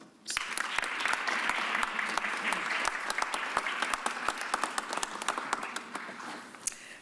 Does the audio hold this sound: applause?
yes